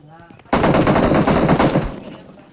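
Rapid automatic gunfire in the battle-royale game PUBG, a loud sustained burst of close shots that starts abruptly after a quiet voice and fades out after about a second and a half.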